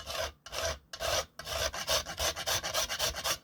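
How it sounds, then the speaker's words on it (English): Nutmeg rasped against a zester grater above squash soup, a close series of short scraping strokes in quick uneven rhythm, quiet and alone without speech. "I've got some nutmeg here, and we're just going to grate it along the top"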